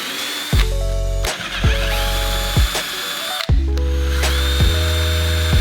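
Power drill boring holes through wood for a wooden go-kart build, heard as loud close bursts that spin up, hold a steady whine, then stop, repeated about five times with brief pauses between.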